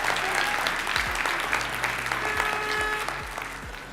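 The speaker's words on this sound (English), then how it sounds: "give yourselves a round of applause for being here" A roomful of entrepreneurs at a business event applauds themselves, dense clapping from a crowd that stays loud and steady, then eases slightly toward the end, with some low thumps and tonal hum beneath.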